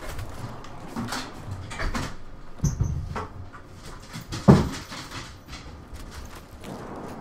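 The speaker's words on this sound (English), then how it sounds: "Uh-oh, we got my dog whining." A pet dog whines indoors, giving several short, soft whimpers at irregular intervals, with a few louder thumps and a door-like clunk mixed in.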